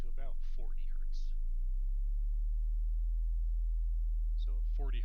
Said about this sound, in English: So at 40 hertz, I can hear a very low frequency sound.